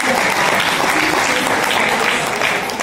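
Loud, continuous clapping from a congregation at a ministers' school church service, a dense wash of hands that stays level from start to finish.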